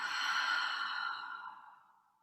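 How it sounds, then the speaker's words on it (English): A long, deep breathy exhale during a Pilates session, close and steady before fading out over about two seconds, with no talking. "Breathing out."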